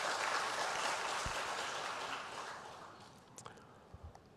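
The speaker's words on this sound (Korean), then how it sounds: "박수로 한번 좀 해주세요." Church congregation at a Sunday worship service applauds after a hymn, a broad wash of clapping that thins out and fades, leaving a few scattered claps at the end.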